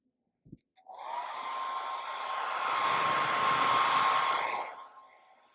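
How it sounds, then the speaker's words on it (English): A hair dryer switches on after a couple of clicks and blows steadily with a loud, broad whooshing hiss for about four seconds, then shuts off. "Blow air on it, or use the hairdryer."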